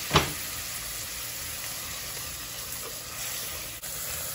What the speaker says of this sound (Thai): เริ่มติดกระทะเราก็ต้องเติมน้ำหน่อย